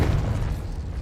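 In the video game Hogwarts Legacy, a Confringo spell explodes in a short, heavy, low boom that rumbles briefly and fades, with no speech over it.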